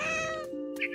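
A cat meows once in the video game What Remains of Edith Finch, a short, clear, close call that rises and bends in pitch, heard alone without any talking.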